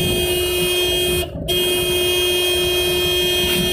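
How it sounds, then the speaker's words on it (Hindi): A car horn sounds while a driving-school car overtakes on the road, warning an oncoming motorbike to move aside. The honk is loud, steady and close, broken by one brief gap, over the hum of the car's interior. "एक तो बाइक आ रही है, हॉर्न देंगे"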